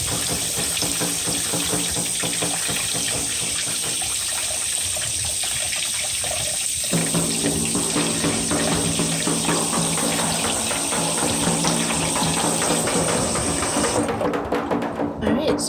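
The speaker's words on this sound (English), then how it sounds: "So I just use my hands in the running water to get the majority of the dirt off." Steady running tap water splashing into a sink, continuous and close, with the flow shifting as dirty rocks are rinsed by hand under it.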